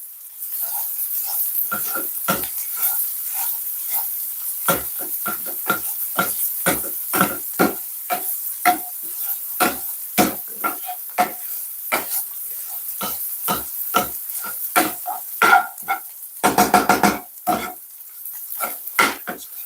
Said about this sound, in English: I'm going to try to smash the peas a bit. I'm just going to use this to press it down